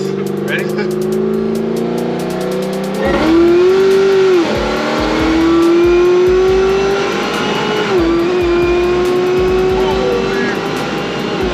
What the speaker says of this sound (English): All you hear is straight blower.